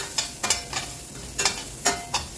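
Chopped onion, asafoetida and turmeric hit hot oil in a pan, giving a steady close sizzle broken by several short, scraping bursts as the pan is stirred, with no one talking.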